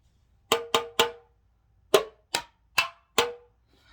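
A nearly empty paint can struck like a drum gives seven sharp metallic clanks, three quick hits, a pause, then four more, each ringing briefly and close with no voices.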